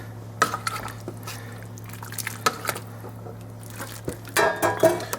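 Salt is stirred into a large pot of menudo, with wet sloshing and the scrape and clink of a spoon against the pot, irregular and close, over a low steady hum.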